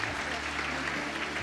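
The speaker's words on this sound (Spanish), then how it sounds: "Un aplauso bien fuerte" Church congregation applauding a graduate at a service, a continuous spread of clapping with a low steady hum and some voices beneath it.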